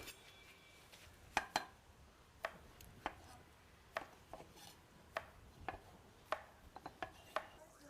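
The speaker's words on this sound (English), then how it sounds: "we are going to quickly chop up our tomatoes" Sharp knife chops strike a board in an irregular series as tomatoes are cut, a dozen or so crisp taps, some doubled, close by with quiet room tone between.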